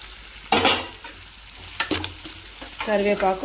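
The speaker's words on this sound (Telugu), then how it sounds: "ఇప్పుడు ఈ తాలింపు వేగనిచ్చుకుందామండి" Curry leaves, onions, green chillies, cumin, garlic and mustard seeds crackle and sizzle in hot oil, with sharp popping bursts and stirring scrapes over a steady frying hiss, close by.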